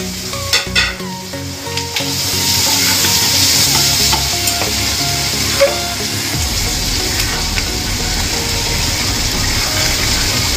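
Raisins and chopped chillies hit a hot pan and fry with a loud, close, steady sizzle, preceded by a few clinks and stirring scrapes, with no talking.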